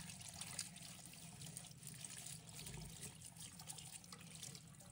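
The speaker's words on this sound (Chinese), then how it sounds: "先用流动水把它表面清洗一下" Running tap water pours steadily over a large local taro as it is rinsed in a kitchen sink, a continuous, fairly quiet splashing and trickling stream with no talk.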